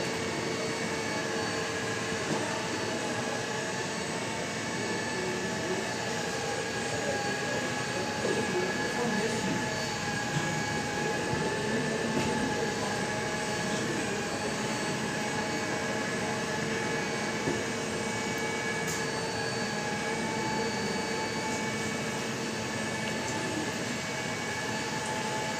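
A floor mopping machine with suction power runs continuously, a steady whining motor drone with a whooshing suction hiss, near and even in level for the whole stretch, with someone talking over it.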